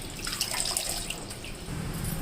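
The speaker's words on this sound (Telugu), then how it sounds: "ఒక కప్పు ఒక్క కప్పు వాటర్ పోసాను" A cup of water is poured onto gongura leaves in a cooking pot, making a close, continuous splashing trickle that stays fairly soft and even.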